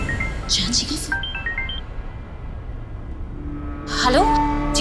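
A short electronic ringtone melody plays in stepped, tinkling notes, pauses, then starts again over low background noise.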